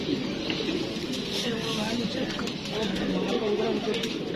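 A pigeon that had been caught coos softly and repeatedly at close range amid a steady background hum, with people talking nearby.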